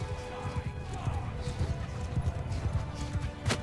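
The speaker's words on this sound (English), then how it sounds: "their heavy cavalry is kind of cycle charging and then pulling back" Heavy cavalry charge across a Bannerlord battlefield, a dense, continuous drumming of many hooves with rough clatter and a sharp impact near the end, while a voice talks faintly underneath.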